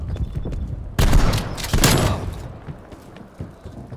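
Shotgun fire from a Rambo video game gives a sudden loud blast, then a second burst of booming gunfire that fades into a quieter, rumbling game background.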